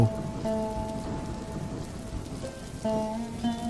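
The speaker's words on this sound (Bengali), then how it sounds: "ধর্মরিয়ে বৃষ্টি শুরু হলো" Heavy rain pouring steadily in a constant wash of noise, with bright melodic tones sounding through it at intervals.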